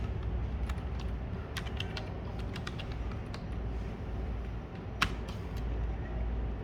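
Typing on a computer keyboard during Mastercam dynamic milling software work, irregular light key clicks over a steady background hum, with one sharper tap near the end.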